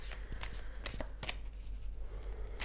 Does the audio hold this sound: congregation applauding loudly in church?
no